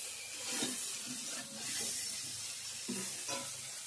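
Green peas fry in a pan with a soft, steady sizzle and occasional stirring scrapes, quiet and close with no voices.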